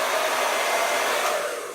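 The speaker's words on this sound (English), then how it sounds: "I put my mascara on and I use my hair dryer" A hair dryer blows steadily with a loud, even whoosh and motor whine, tailing off slightly at the end; no voices.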